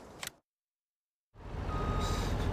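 Vehicle reversing beeps in Farming Simulator 19 come in after a short gap of silence, a steady electronic tone over a loud engine rumble from farm machinery, close and continuous.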